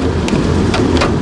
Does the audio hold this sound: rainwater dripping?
yes